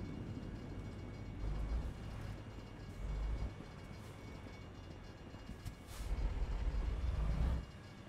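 A passing train in the trucking game American Truck Simulator, its low rumble building in broad swells as cars roll by at moderate distance, with no talk over it.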